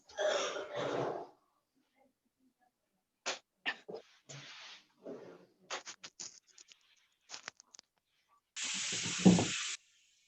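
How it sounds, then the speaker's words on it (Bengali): A board being wiped to erase writing: scattered short brushing and scrubbing strokes in separate bursts, ending with a longer, louder rub, with silence in between. "স্পেসের জন্য আমি এটাকে একটু মুছতেছি"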